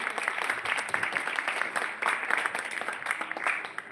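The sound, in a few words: audience applause for a speaker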